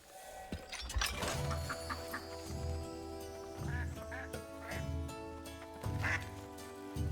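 Ducks quack in the video game Soulframe, several rhythmic bursts of quacking repeating over a steady musical game backdrop, moderately close and mixed with faint talk.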